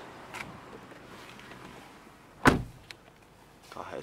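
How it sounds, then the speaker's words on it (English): Electric window motor on a Mercedes-Benz A-Class A150 Classic SE five-door, a short whirring burst near the middle against a quiet cabin background, with faint clicks around it. "Electric window"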